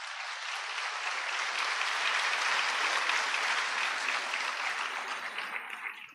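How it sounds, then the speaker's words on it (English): Steady applause from a graduation ceremony audience swells within the first second, stays loud and full for several seconds, then tapers slightly at the end. "let us give them a huge round of applause."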